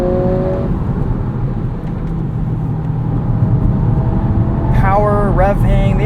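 A 2023 Acura Integra with a manual gearbox, switched into sport mode, holds a loud, steady engine drone from inside the cabin, which climbs into a rising rev near the end while someone talks over it.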